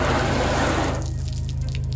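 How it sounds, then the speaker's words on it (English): Water runs and splashes off the ceramic-coated wheel of a Piper M600 airplane, a steady close hiss of flowing water that drops off sharply halfway, leaving a low constant hum beneath. "Yeah, the water's rolling off of there pretty nice."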